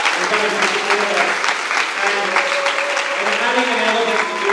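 Audience applause at a school production of Peter Pan Jr in Dubai, loud continuous clapping from a close crowd, with voices and cheers running through it.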